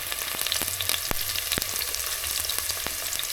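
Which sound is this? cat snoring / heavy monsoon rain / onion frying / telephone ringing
onion frying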